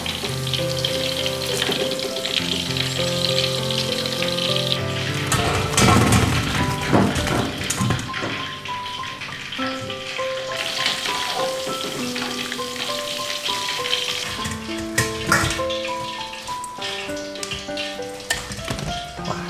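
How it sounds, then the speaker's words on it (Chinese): Battered pork ribs deep-frying in a pot of hot oil, a loud, dense, continuous crackling sizzle close up, punctuated by occasional thumps and clatters as pieces are moved about. "裹好面糊的排骨，我们下油锅给它炸。"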